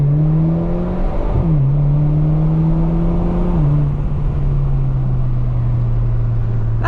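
A 2017 Alfa Romeo Giulia Ti Lusso with a muffler delete revs up loudly from inside the cabin, its pitch climbing through gear shifts before settling into a steady drone.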